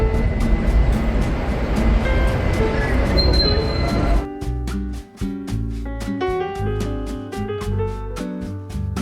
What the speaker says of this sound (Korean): 지하철이 가까워.